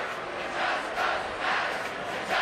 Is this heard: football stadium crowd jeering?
yes